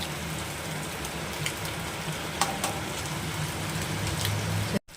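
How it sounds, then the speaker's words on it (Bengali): Chicken pieces fry in a pan with two cracked eggs, spices, chaat masala and garam masala, sizzling steadily and loudly up close, with a few light stirring clinks and a short break near the end. "এবার এই ডিমটা দিয়ে এটাকে আমি আর একটু ভেজে নেব"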